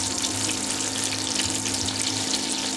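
Lamb pieces seasoned with salt and pepper sizzling as they brown in hot oil for a rustic lamb stew, a steady loud frying hiss with no voices.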